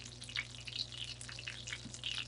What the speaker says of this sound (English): I'm going to go ahead and just brown this qofte